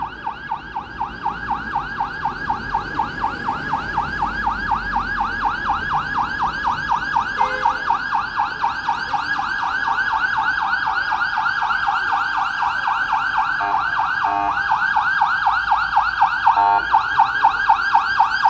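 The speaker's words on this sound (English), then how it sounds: "The traffic is blocking the police car." A police car siren wailing in rapid, steady cycles on a busy city street in Toronto, loud and close as it sits stuck in traffic, with faint street noise underneath.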